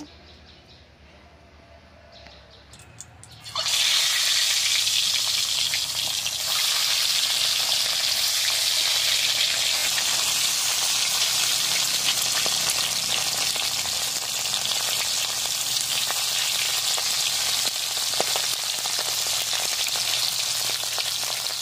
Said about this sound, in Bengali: কড়াইটা গরম হয়েছে, তেলটা কড়াইতে দিয়ে ডিমা দিয়ে তেলাকুচটি ভাইজা নেব।